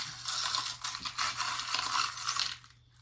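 A small scissors-shaped charm falls and rattles onto the floor, a bright metallic clatter lasting a couple of seconds, close and with no voices.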